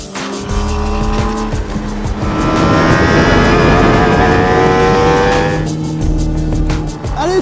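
A racing sidecar accelerates hard, its engine roaring loudly and rising in pitch as the tires squeal through a turn, close and intense, then the revs drop and climb again.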